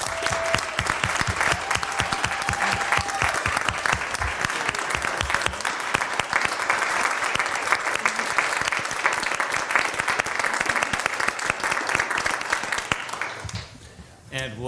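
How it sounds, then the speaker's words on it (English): Sustained applause from an audience at a school district governing board meeting, steady dense clapping for about thirteen seconds before fading out near the end, with some voices mixed in. "let's give him a round of applause"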